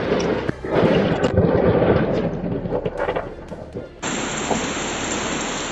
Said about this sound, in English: A lightning bolt cuts across the sky and hits a flagpole